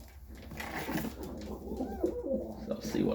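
Serbian Highflyer pigeons coo softly and repeatedly close by, with someone talking over them.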